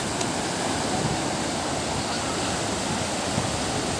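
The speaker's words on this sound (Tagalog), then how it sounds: "Ayun o, lakas alon o." Strong surf rolls in at Bagasbas Beach, a continuous, loud roar of breaking waves and rushing water with no pauses and no talking over it.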